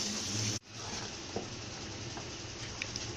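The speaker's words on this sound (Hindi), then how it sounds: "अब ये बैटर इसमें जाएगा, अब इसको मिक्स कर देना है।" Thick milk batter being stirred into halwa in a hot pan, a steady broadband sizzle with a sudden brief cut early on, then continuous frying hiss and faint scraping clicks.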